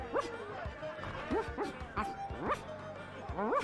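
A voiced dog character named Spiffy in The Secret of Monkey Island, giving a repeated series of short woofs and whimpering yips, four or five in a steady rhythm, close and moderately loud.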